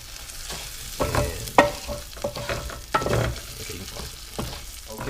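Rice and vermicelli browning in a pan on medium heat give a soft, continuous frying crackle, broken by intermittent scraping stirs and a few sharper knocks of a utensil against the pan.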